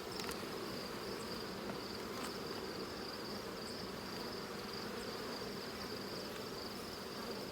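Honeybees humming steadily around an open hive with brood frames, a constant soft drone of many wings throughout, fairly faint and without speech.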